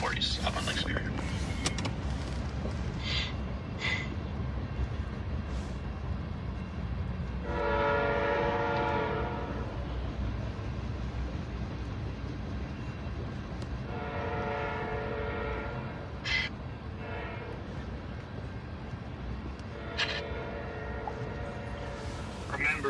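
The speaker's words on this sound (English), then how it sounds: "choo-choo train" Train passing with horn blasts sounding in several separate bursts over steady rumbling background noise, a mid-distance pass with repeated tonal honks.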